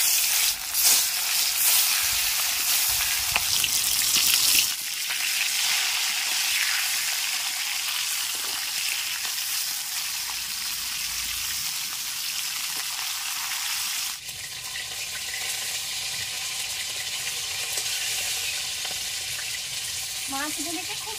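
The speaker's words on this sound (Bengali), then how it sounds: "মাছগুলিকে খুব ভালোভাবে ভেজে নিয়েছি," Sea bele fish fries in hot mustard oil in a wok, giving off a dense, continuous sizzle that fills the whole stretch at close range.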